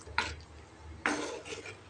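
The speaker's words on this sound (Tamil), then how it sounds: "நல்லா கலக்கி விட்டுக்கலாம்." A spoon stirs brinjal curry in a village-style pot, giving two sharp scraping clinks followed by quieter scraping, close and fairly faint with no talk.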